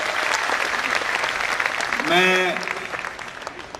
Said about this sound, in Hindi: एक बार इन दोनों के लिए आप जोरदार तालियां बजाकर इन्हें सम्मान व्यक्त करें।